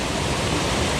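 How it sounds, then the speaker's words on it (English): Creek water pouring steadily over a spillway, a constant broad rushing wash with no breaks, close and even. "This always constant flowing water."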